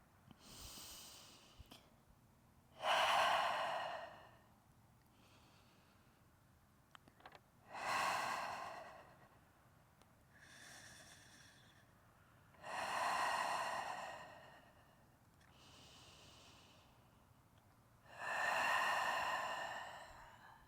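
Slow, deep breaths during a yoga pose, five long airy exhales of a few seconds each spaced about five seconds apart, close and soft against a quiet room.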